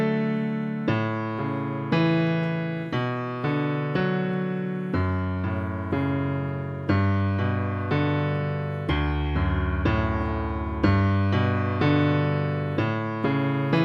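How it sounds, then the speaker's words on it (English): Canon in D in its second variation, with bass notes under chords on top, played on piano: a steady, close, unhurried chain of struck chords over low notes, moderately loud and with no talking. "So that's like a great second variation for Canon in D."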